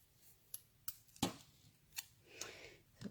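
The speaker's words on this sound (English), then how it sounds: "I'm just going to cut it out." Scissors cutting out a paper piece held with washi tape for a craft border: a handful of sharp, close snips spaced irregularly, with soft rustling of paper between them, in a quiet room with no talk.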